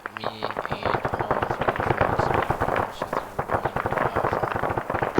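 Rapid, dense bursts of blasts and cracks fill a military compound assault training drill, with frag grenade explosions mixed into continuous close-range firing; a voice speaks briefly at the start.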